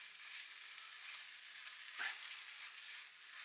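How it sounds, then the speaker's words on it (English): King prawn curry sauce, a thick British Indian restaurant-style bhuna, fries and sizzles steadily in a pan while being stirred, with a brief louder scrape of the spoon midway; no voices. "keep it stirring and frying."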